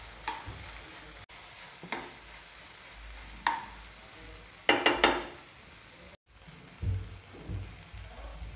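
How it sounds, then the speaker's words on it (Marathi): Fenugreek leaves (methi bhaji) being stir-fried in a pan on low gas, with a soft steady sizzle broken by several sharp scraping strokes of a spatula against the metal. "तर आता आपण हे कमी गॅसवरती छान परतायची भाजी"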